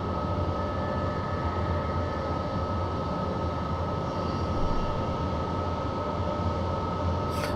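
A BR103 electric locomotive in the Train Simulator game accelerates with a steady, dense rail rumble and a faint high whine, holding level and continuous throughout without speech.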